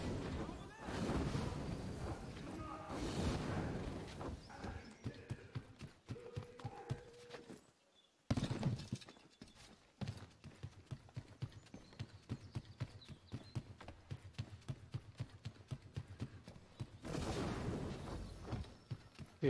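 Horse hooves clip-clop in Assassin's Creed III, a steady galloping rhythm that fills most of the stretch, briefly dropping out near the middle before resuming with occasional wind noise.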